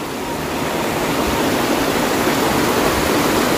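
The Cihonje river flows beneath a rural bridge with a steady, loud broadband rush of fast-moving water and no pauses or voices.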